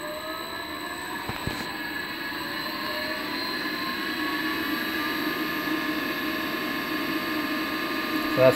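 A blower hums steadily on a wood gas system, a constant whirring drone with a high whine, close and fairly loud throughout, rising slightly at the very end.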